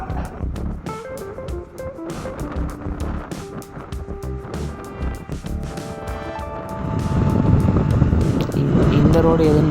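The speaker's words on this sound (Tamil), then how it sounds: "வண்டியில் போகிறதுக்கு அப்படியே ஜில்லுன்னு காற்று வருது" Riding along a town road in a vehicle, with steady wind rush and road noise throughout, swelling louder and rougher toward the end; a voice talks over it in places.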